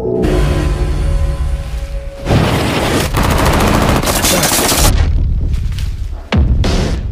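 Gunfire from a sniper rifle in a war film scene, loud bursts and rolling blasts packed close together with sharp cutoffs, mixed with battle noise.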